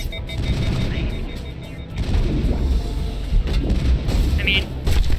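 Sniper rifle shots ring out in the video game Mass Effect, a few sharp booming reports spaced apart over steady rumbling game ambience and other battle noise.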